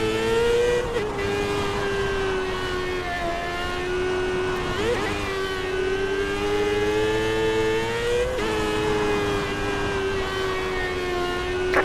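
Race car engines in the iRacing sim wail at a sustained high pitch, shifting and sweeping as cars pass, loud and continuous throughout, with brief tire squeals.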